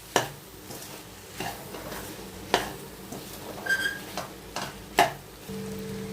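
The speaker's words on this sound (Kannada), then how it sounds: "ಮಿಕ್ಸ್ ಮಾಡ್ಕೊಳ್ಳೋಣ ಮತ್ತೆ ಇದನ್ನು." Egg and okra stir-fry being stirred in a pan, with a steady low sizzle under several distinct scraping strokes of a spatula and occasional clinks against the pan.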